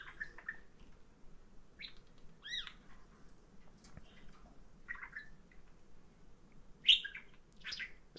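Pet birds chirping indoors, short scattered tweets and calls at moderate distance over a low room hum, no voices.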